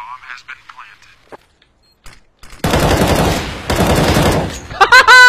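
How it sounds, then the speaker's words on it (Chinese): Rapid automatic gunfire rattles loudly in a first-person shooter match, two sustained bursts after a quiet stretch of faint game sounds, with a voice talking briefly at the start. "他开枪，我蹲下"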